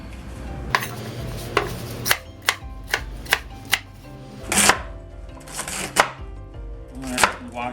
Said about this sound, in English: We're going to cut the stems of the Chinese broccoli first because they're the hardest one.